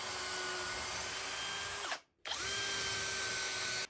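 A power drill drives screws to attach a wooden bedroom fixture, whirring loud and steady in two long runs with a brief stop between them, close by.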